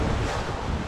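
Strong 27 mph coastal wind on the Oregon Coast Trail near Cape Blanco and the Sixes River gusts steadily and loudly into the microphone with no pauses, roaring beneath surf.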